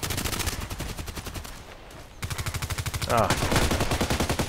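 Rapid automatic gunfire from the video game Contract Wars, dense rhythmic bursts of shots in two long runs separated by a brief lull, with a short vocal exclamation.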